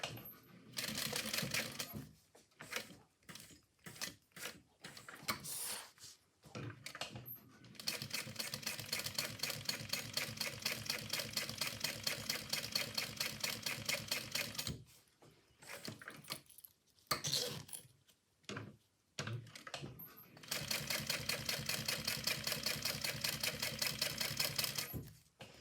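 A sewing machine stitches a zipper box and lining on a bag, running in fast rhythmic bursts of whirring with short pauses between runs.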